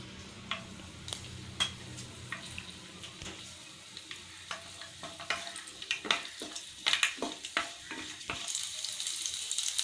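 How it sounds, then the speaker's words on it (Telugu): Garlic cloves frying in a tablespoon of hot oil, a soft sizzle broken by repeated sharp crackles and spatters that grow busier and louder toward the end, with no talking. "ఆయిల్ హీట్ అయ్యాక ఇందులో ఎల్లుల్లి రెబ్బలు వేసుకొని వేయించుకోవాలి"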